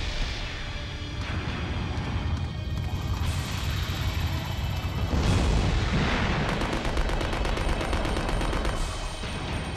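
Gunshots and crashing impacts in Resident Evil Code Veronica X's Battle Game, mixed into loud, dense action sound and music, with heavier blasts building around the middle and no speech.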